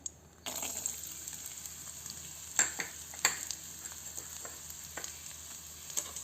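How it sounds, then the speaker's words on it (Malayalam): Coconut pieces frying in ghee in a pan give a steady, soft sizzle, with a few louder clatters as they are stirred. "ഇനി നമുക്ക് ഈ തേങ്ങാക്കൊത്തിട്ട് കൊടുക്കാം."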